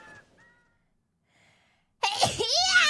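A single sharp sneeze bursts out suddenly after a quiet pause, loud and close, preceded by a faint breathy intake.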